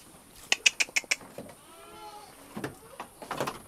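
A goat about to be mated bleats with a rising, wavering call near the middle, after a quick run of five sharp clicks or knocks; further shuffling and handling noises follow, close by.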